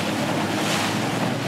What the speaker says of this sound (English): The boys are giving Ren his first ever water skiing lesson.